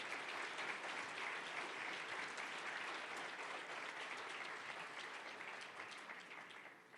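Sustained audience applause during a political speech by Milei at a Faro Foundation event, dense clapping filling the room steadily before fading slightly toward the end, no talk over it.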